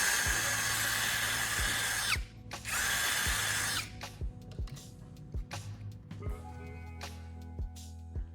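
A power drill bores holes in the top cover of a plastic charger casing: a high whining motor buzz in several runs of a second or two, broken by short stops and clicks, close and fairly loud.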